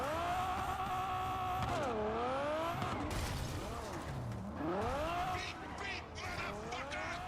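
Engine of a car in a video game, loud and continuous, its tone rising and falling in sweeping revs and shifts, with tire and mechanical noise mixed through.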